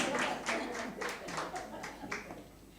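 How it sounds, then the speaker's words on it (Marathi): Audience clapping for a Marathi tribute music programme with singing, tabla and harmonium, a loose rhythm of claps lasting about three seconds, moderately loud and fading slightly, with some voice underneath. "एकदा परत जोरदार टाळ्या या प्रोग्रामसाठी."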